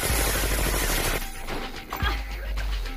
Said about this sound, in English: Nina rappels down the side of the building and shoots out the place with a machine gun.